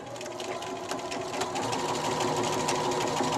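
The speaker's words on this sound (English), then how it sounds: "we're going to sew down this entire edge at 1/4" A sewing machine stitches down the edge of pillowcase fabric with a fast, even mechanical whir and rapid needle clatter, close and continuous, with no voices.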